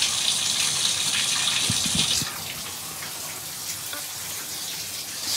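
Shower water running while it heats up, a steady gushing spray that drops to a softer flow partway through.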